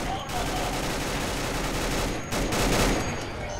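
Dense, sustained bursts of rapid gunfire in Fallout 4 fill the whole stretch, loud and continuous, swelling briefly near the end.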